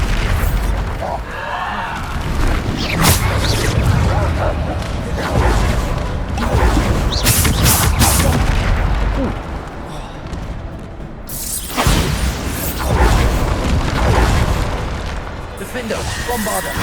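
Repeated Bombarda explosion spells in Hogwarts Legacy combat: a string of loud booms and crashes with whooshes in dense spell fighting, while a player calls out spell names throughout.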